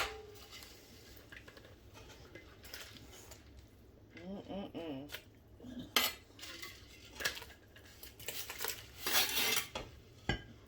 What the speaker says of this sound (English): we've got that sausage all sliced. So I'm going to start adding this to our pot